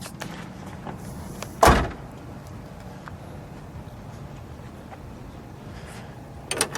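Heavy door of a 1969 Pontiac Grand Prix Model J shutting with a single loud, solid thud, followed by a faint click near the end amid quiet room ambience.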